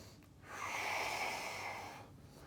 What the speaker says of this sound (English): Keep breathing. You shouldn't be holding your breath.